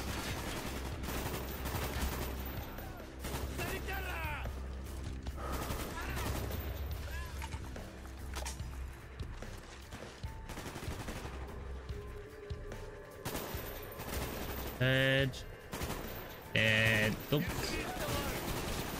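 Pistol fire in Call of Duty Black Ops pops repeatedly amid a loud, cluttered game mix of explosions and action, with voices talking over the shooting.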